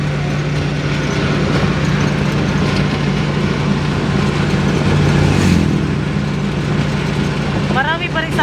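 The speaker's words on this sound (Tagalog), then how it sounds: "Marami pa rin sasakyan kahit alas 2 na." Steady traffic at night around 2 a.m.: a continuous roar of passing cars and engines close by with a low hum under it, and a voice speaking briefly at the end.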